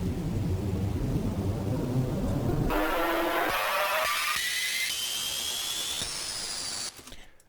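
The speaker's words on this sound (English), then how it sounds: "the only thing is this riser" A resampled, glitchy electronic riser with a roaring noisy bed climbs in abrupt stepped jumps to a high, thin whine, then cuts out, loud and alone.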